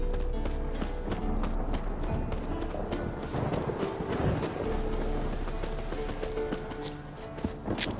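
Steady clip-clop of horse hooves at a walking pace in the video game The Witcher 3: Wild Hunt, moderately close, over a constant low ambient rumble with faint background sounds.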